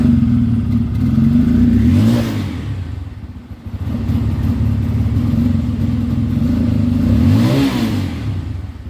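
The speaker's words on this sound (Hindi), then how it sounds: "इसको स्टार्ट करके देखते हैं। इग्निशन लाइट अभी भी आ रही है। आवाज़ सुनिए आप बाइक की।" A BS6 motorcycle with its engine check light on is idling with a steady low rumble, then revved twice in rising and falling surges. The engine sounds loud and close, with no voices.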